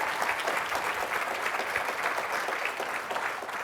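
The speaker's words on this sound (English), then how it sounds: "and then with an applause" Attendees at an AWS Public Sector Summit session applaud the panelists, a sustained, even patter of many hands clapping at moderate volume throughout, with no speech over it.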